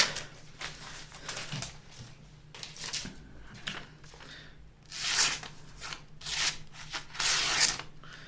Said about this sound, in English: Maybe I just suck at cutting paper